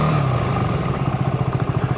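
A motorcycle engine revs loudly and close, holding a throaty drone before settling into a pulsing, rhythmic chug.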